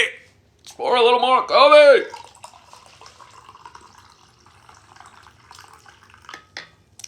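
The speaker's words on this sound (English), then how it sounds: "Let's pour a little more coffee." Coffee is poured into a cup, giving a soft, quiet trickle with light splashes that runs for several seconds after a brief vocal sound.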